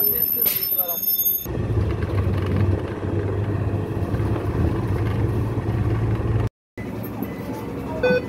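Inside a bus heading to a railway station, a steady engine drone and road rumble run throughout, with people talking over it and a brief cut near the end.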